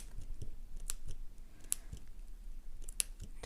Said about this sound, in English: I can hear the scissors going through it